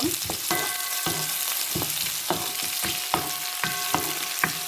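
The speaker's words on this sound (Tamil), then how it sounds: "பச்சை மிளகாய் வதங்கி இருக்கு" Green chillies sizzle as they sauté in a pan, with a continuous close frying hiss broken by regular spatula stirs and scrapes about every half second.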